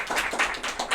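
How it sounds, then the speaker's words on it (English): Brief burst of audience applause for a panel at a medical cannabis discussion event, dense clapping heard close and moderately loud. "can we have a round of applause for our panel?"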